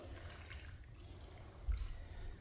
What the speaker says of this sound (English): I'm going to soak the sponge, get the water out of the sponge